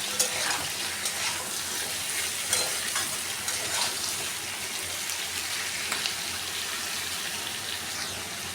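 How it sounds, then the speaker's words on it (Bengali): Vegetables including pumpkin and potato frying in a pan with a little salt, giving a steady close hiss and crackle with occasional stirring scrapes throughout. "আমি এবারে একটু সামান্য নুন দিয়ে দিচ্ছি যাতে সবজিগুলো তাড়াতাড়ি নরম হয়ে ভাজা হয়ে যায়"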